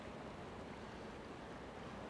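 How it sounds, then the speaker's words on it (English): Fast, deep, turbulent river rapids on a trout stream, a steady low rushing roar of churning water, faint and even throughout, no voices. "As you can see below us, the rapids, which are real fast water"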